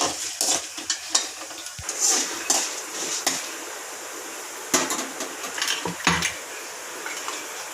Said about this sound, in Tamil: கடலைப்பருப்பு, இது நல்லா பொன் வறுவலாக ஆகட்டும்